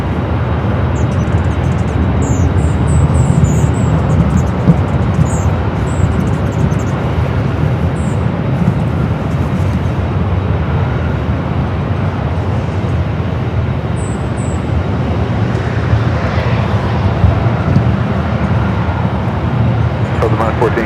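A Philippine Airlines jet at LAX lines up on runway 24 left for departure to Manila, its engines a heavy, steady low roar that holds for the whole stretch, with faint chirping high above.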